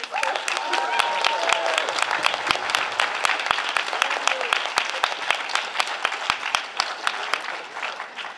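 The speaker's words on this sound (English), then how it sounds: "let's give a round of applause for Mr. Shelley." Audience applause at a school spring concert honoring the orchestra teacher, a steady dense wash of clapping from a crowd lasting several seconds, with some voices mixed in.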